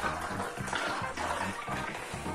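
Chilled tonic water poured from a freshly opened bottle into a glass over ice for a gin and tonic, a steady close fizzing splash running continuously for a couple of seconds with no talk over it.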